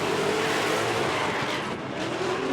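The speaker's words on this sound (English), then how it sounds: "those Nitto tires are" A Formula Drift pro car on Nitto tires slides at Irwindale, its engine roaring steadily under a continuous loud tire squeal, close and dense for the whole stretch.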